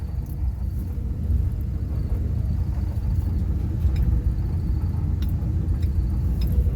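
Low continuous rumble of an off-road vehicle pulling away in four-low, first gear, close and steady for several seconds, with faint rattling on top and no talking.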